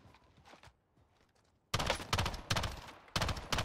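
Gunfire in Call of Duty Warzone, a few faint distant shots followed by loud, close bursts of rapid fire in several volleys, with no talk over it.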